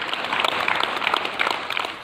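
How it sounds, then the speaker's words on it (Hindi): Dense applause from a crowd at a hospital, cheering COVID patients who have recovered; steady overlapping claps throughout, fairly loud and close, with no speech. "ये ताली खुशियों की है।"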